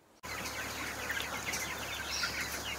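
Chickens in a poultry farm fill the space with a dense chorus of clucks and chirps, a steady, busy murmur of many birds heard close, without any speech.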